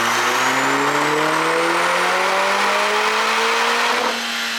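Tuned Lotus Emira engine on a dyno, running the JB4 map 3 tune, revs in one long continuous pull with a steadily rising pitch, loud and close, then backs off sharply near the end.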